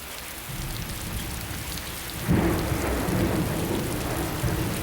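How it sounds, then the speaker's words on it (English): Steady heavy rain hisses on surfaces outdoors, joined midway by a low rumbling roll of thunder that swells and lingers under the downpour, with no voices. "Oh, I love this rain."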